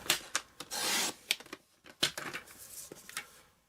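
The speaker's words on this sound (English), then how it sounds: "I'm going to have to cut a 1/16 of an inch at each end" Blade slicing a thin sliver off the edge of a handmade birthday card, a few short scraping and rasping strokes close by with pauses between.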